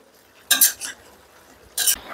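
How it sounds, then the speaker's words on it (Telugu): A utensil scraping and clinking in a bowl while turmeric is mixed into raw chicken: two short bursts of stirring a moment apart, close and fairly crisp, with quiet in between. "ఒకసారి ఈ పసుపు అంతా చికెన్‌కి పట్టేలాగా కలిపేసుకుందాము"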